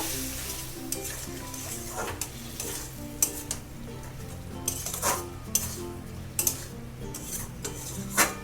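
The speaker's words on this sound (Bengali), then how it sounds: "ভালো করে এটাকে মিশিয়ে নেব।" A spoon scrapes and stirs through egg curry with cumin powder and a splash of water in a pan, in steady close strokes with a low sizzle and occasional sharp clinks against the metal.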